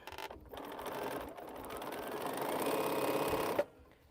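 A sewing machine stitches mini pinwheel quilt blocks, running in a steady, close, rapid hum for about three seconds before stopping abruptly.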